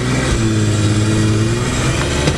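A BMW car engine runs loudly and close by as it is put in gear, with a steady low hum that rises slightly.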